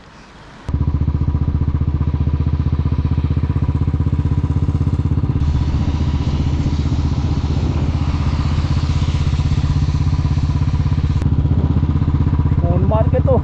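A motorcycle ridden on a mountain road in Kashmir, near Sonamarg, drones steadily and loudly, its engine hum constant with wind rush throughout.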